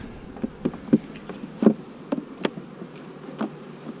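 Bees foraging for scant nectar on a small flower patch in late November, with short buzzing fly-bys and wingbeat bursts coming and going close by over a quiet background.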